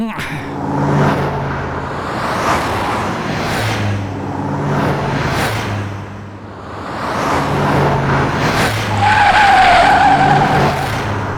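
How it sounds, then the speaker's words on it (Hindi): In a Hindi-dubbed South Indian action film, a car speeds past loudly with a roaring engine that swells and fades, and its tires squeal sharply near the end. "अरे इतनी तेज गाड़ी लेके कौन जा रहा है?"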